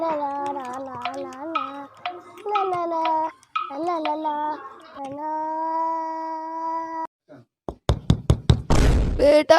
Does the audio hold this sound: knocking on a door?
yes